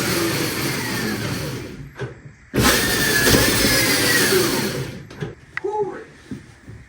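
An E Ride Pro SS electric buggy's motor whines up under acceleration in loud surges, with a rising pitch, a brief cut, then a longer hard pull before it winds down amid rattles and a few spoken words.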